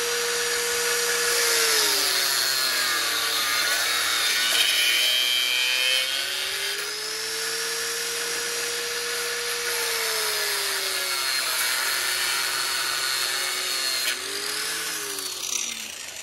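A power tool cuts through fiberglass rebar with a continuous, loud, high-pitched whine and grinding rasp, its motor pitch dipping and rising steadily over about sixteen seconds with no talking.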